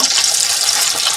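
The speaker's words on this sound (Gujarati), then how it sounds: "હવે આપણે બધા રતાળુને તળી લઈશું." Boiled purple yam (ratalu) pieces frying in hot oil, a steady close bubbling sizzle with no talk.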